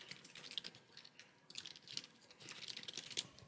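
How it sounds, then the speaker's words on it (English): Soft, fast clicks of typing on a computer keyboard, close and quiet, coming in irregular bursts with brief pauses and no talk. "I'll go ahead and just select that and start typing."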